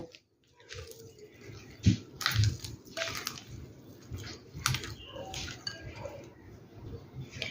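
Bread dough is kneaded by hand in a steel bowl, giving soft squishing, slapping and occasional metallic knocks at an uneven, steady working pace.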